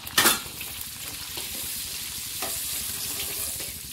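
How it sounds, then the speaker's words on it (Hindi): Spices roast in a pan for a cabbage and peas curry: an opening clatter of a utensil, then a steady close frying sizzle with faint stirring scrapes. "मसाले भुन चुके हैं।"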